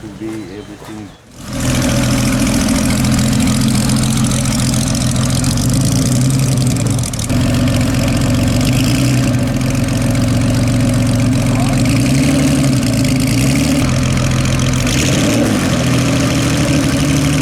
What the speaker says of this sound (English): here is the Duesenberg engine now, in the traditional green